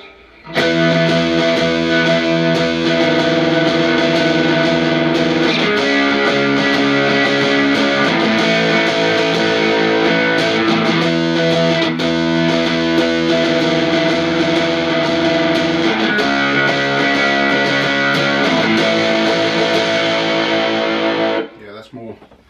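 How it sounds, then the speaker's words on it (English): A heavily distorted electric guitar through a TC Electronic Grand Magus distortion pedal plays a sustained, compressed, fuzzy riff, loud and continuous, with chords ringing out before stopping abruptly at the end. "Distortion. It's got quite a compressed sound to it, almost like a fuzz pedal."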